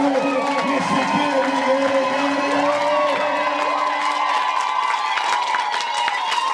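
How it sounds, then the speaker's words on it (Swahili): A church congregation claps and cheers in praise, a loud continuous crowd roar with shouts and whoops, while a voice leads over the top. "pigia Yesu makofi ya juu, makofi ya shangwe"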